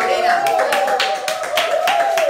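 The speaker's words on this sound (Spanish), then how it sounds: "eso merece un aplauso" Audience clapping on a Spanish-language home talk show, a steady patter of hands running the whole stretch beneath a sustained voice.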